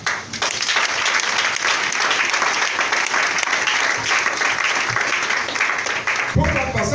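Sustained applause from a church congregation, dense clapping with crowd noise, loud and continuous, with a voice and a low musical note coming in at the very end.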